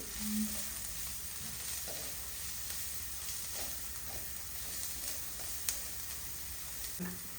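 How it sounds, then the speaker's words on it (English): Carrots and beans cook in a pan for a vegetable chicken clear soup, giving an even, steady sizzle close by with a few soft taps and stirring scrapes and no one talking. "I'm going to add a little bit of carrots and some beans. Again, cook it for a bit."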